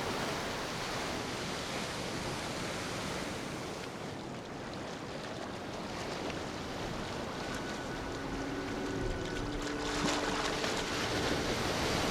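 Gentle, small sea waves wash steadily onto a beach, a soft continuous hiss of small breaking waves, fairly faint with no voices.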